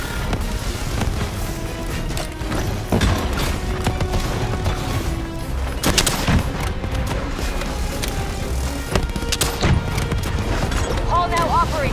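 Gunfire and combat effects in the Call of Duty: Black Ops 3 video game, with dense, continuous bursts, impacts and crashes over a loud battle din, with voices speaking throughout.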